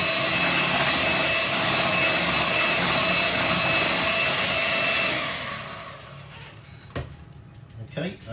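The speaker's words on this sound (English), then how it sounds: "we're going to whisk them in until they're all incorporated" Eggs are whisked into a large batch of Nutella brownie batter, a loud, steady whirring churn lasting about five seconds before cutting off, followed by a few sharp clinks and knocks.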